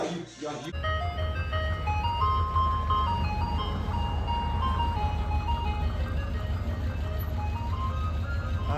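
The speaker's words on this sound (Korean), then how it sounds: "아이스크림 자동차" An ice cream truck on a street in Los Angeles plays its looping electronic melody steadily and fairly loud, while people chat over it.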